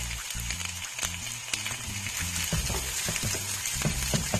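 Onions and garlic fry in hot coconut oil in a pan, giving a continuous crackling sizzle under faint clinks and scraping, with no one speaking.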